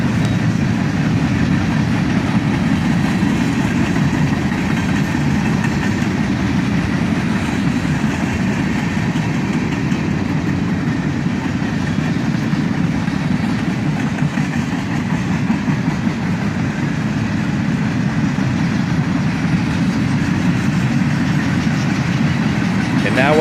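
A freight train passes under power at track speed, giving a loud, steady, low rumble and roar that holds unbroken for over twenty seconds.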